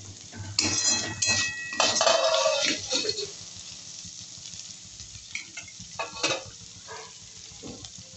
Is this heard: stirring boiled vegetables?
yes